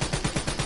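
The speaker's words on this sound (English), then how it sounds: "This kid with a sniper, bro, he's destroying me." Gunfire in a Black Ops 3 multiplayer match with a sniper rifle in play: a quick string of sharp, evenly spaced shots, loud and close, with no talking.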